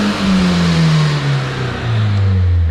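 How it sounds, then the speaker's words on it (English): A Nissan 240SX engine revs up and down with a deep, throaty HKS exhaust drone, close and loud throughout, with no talking. "this is the last time we'll be here in this car with the HKS exhaust on it"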